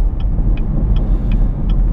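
A 2017 Chevrolet Camaro ZL1 with a manual gearbox sits warmed up before a launch pull, its supercharged V8 giving a loud, steady, deep rumble held close to the microphone, with no one talking.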